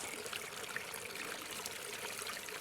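Water running down a pondless waterfall on a garden build, with too much flow in one channel: a soft, continuous trickling and splashing, faint and steady, with no voices.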